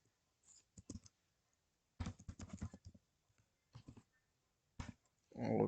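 Keys on a computer keyboard clatter in short quiet bursts, close and sparse with pauses between them, ending in a denser flurry of clicks.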